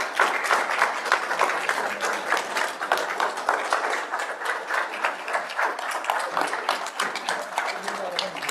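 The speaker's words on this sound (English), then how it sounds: "please give a round of applause and ask Chief Brown to come up." An audience at a city council meeting gives a sustained round of applause, dense steady clapping that holds evenly for several seconds.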